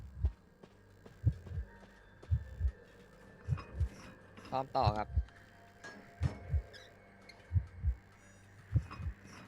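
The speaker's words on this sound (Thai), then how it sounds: "จะเสียงหัวใจอยู่ใกล้มากครับ" Thumping double heartbeat pulses in Identity V warn that the killer is close, repeating steadily and loud through the clip while someone speaks briefly over game sounds.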